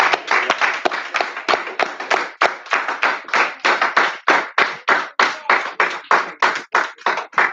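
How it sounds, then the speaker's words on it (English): A congregation at a church service claps in a steady rhythm, sharp close claps repeating about three times a second, loud and continuous with no voices over them. "Give them another round of applause."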